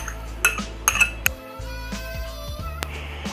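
Chicken, cheese, pepper and mayonnaise sandwich filling mixed in a bowl, heard as a spoon clinking and scraping against the dish in irregular bursts with quieter stretches between.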